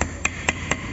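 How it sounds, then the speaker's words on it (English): Plastic mallet tapping new seals into a brake caliper on a JCB 4CX Eco backhoe loader: four evenly spaced, sharp knocks about a quarter second apart, close and distinct over a quiet background. "just take a plastic mallet and smack it all around"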